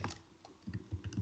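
Brief, quiet burst of typing on a computer keyboard: a quick run of soft key clicks, heard alone.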